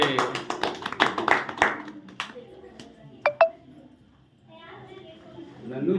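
Several sharp handclaps burst out in the first two seconds at a home Satyanarayan Katha puja held for a marriage anniversary. A couple of bright beeping tones and children's voices follow in a quieter room.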